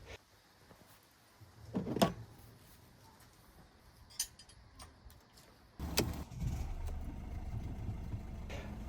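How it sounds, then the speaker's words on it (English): A car engine is started after an oil change and settles into a steady idle rumble partway through, preceded by faint clinks and tool handling. "replace the oil cap, and start the engine."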